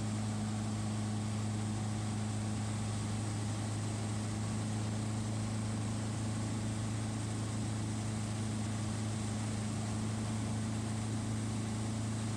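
A racing plane's engine runs steadily at very high RPM in flight, a loud continuous propeller drone with strong low tonal hum and broadband roar, unchanging throughout and with no talk.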